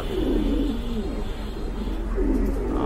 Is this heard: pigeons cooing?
yes